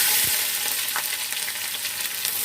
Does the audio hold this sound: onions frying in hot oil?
yes